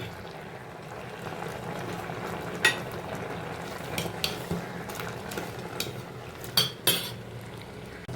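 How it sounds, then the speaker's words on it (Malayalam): A spoon stirs a Kerala-style curry of semi-ripe mango and ash gourd in a pot just after thick yogurt is poured in, giving a steady low simmering bed with a few sharp clinks of metal against the pot. "ഒന്ന് ഇളക്കി കൊടുക്കാം"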